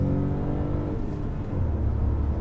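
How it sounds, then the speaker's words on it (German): Skoda Scala 1.0 G-Tec TGI three-cylinder CNG hatchback, 66 kW, accelerating on the road, heard from inside the cabin; a steady, loud low engine drone with tyre and road rumble and no talking. "Und da kann man schön den Motor hören."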